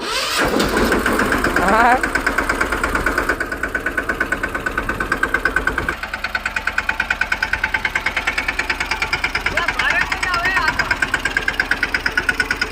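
A brand-new tractor's diesel engine cranks and catches, then settles into a loud, rhythmic chug close by, with voices faintly in the background.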